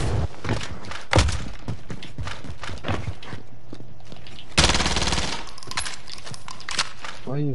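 Gunfire in the video game Warzone, rapid bursts of shots and heavy impacts, loud and close, with a dense volley near the middle, mixed with thumping footsteps and brief talking.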